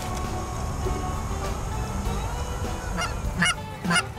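Geese honk as they fly in toward hunters on an Illinois goose hunt, a few loud nasal calls standing out near the end over a low continuous background rumble.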